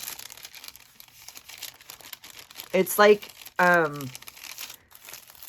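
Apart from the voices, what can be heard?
crinkling paper from fast food tray liner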